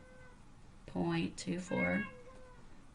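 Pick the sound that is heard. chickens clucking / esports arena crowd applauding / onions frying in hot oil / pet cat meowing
pet cat meowing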